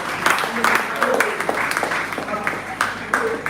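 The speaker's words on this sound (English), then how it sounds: "Clap for me." Youth convention audience at a computer training session clapping in short, rhythmic bursts, fairly close, with a voice talking over the claps.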